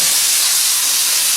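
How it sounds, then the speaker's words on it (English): The quick steam valve on an ECM Synchronika dual boiler espresso machine hisses loudly and continuously, a close, steady rush of steam with no talk over it. "It's the quick steam valve, so fast opening and can be adjusted in all directions."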